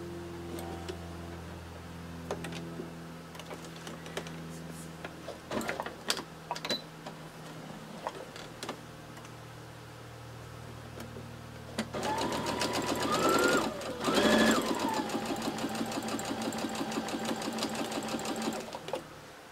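A sewing machine stitches fabric petals for a Dresden plate quilt block, starting with faint scattered clicks and hum before breaking into a loud, steady, rapid run of stitching near the end.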